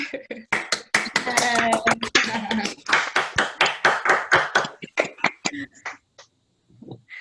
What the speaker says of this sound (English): Maybe we could just unmute to give you a round of applause.